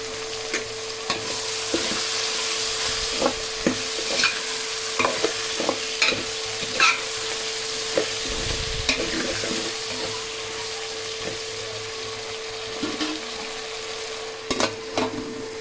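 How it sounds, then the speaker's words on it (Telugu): Mixed vegetables with mint and coriander fry in oil for veg biryani, a steady sizzle under repeated scraping stirs and clinks of a spoon against the pot, close and fairly loud throughout with no talking. "వెజిటేబుల్స్ అయితే వేగిపోయినాయి."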